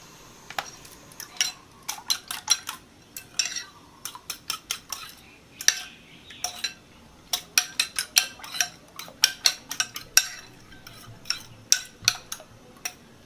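Eggs being gently beaten in a bowl for a Thai steamed egg soup: quick bursts of light, close clinks of a utensil against the bowl, repeated in an uneven rhythm with short pauses, with no talking.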